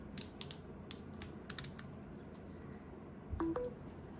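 MagSafe magnetic cable attachments snapping onto a phone, producing several sharp close clicks early on, then a short electronic chime-like beep near the end.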